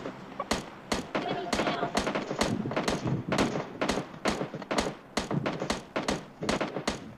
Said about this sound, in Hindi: मैं शॉटगन से मार रहा हूँ